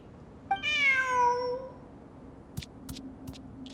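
A close, clear cat meow in the video game Genshin Impact, one drawn-out rising and falling call. It is followed by a few faint soft ticks over a quiet background hum.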